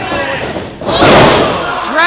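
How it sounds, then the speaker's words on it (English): A wrestler's body crashes onto the ring canvas during a six-man tag pro wrestling match, a loud heavy thud rising over constant crowd noise and a commentator's voice. "Big boot to Tony Rush"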